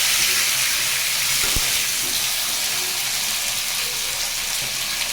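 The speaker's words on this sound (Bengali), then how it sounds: "আলুটা দিয়ে একটু ভালো করে ভেজে নেব।" Potatoes fry in a pan with a dense, even hiss and sizzle that stays loud and unbroken for about five seconds. A single soft knock sounds partway through, and no one talks.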